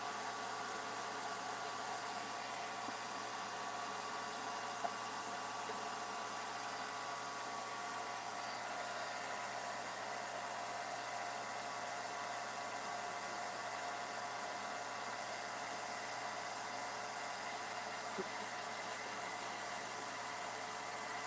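A heat gun blows hot air steadily onto a birdhouse craft, a continuous broadband whoosh with a faint hum underneath, close and even throughout with no talking.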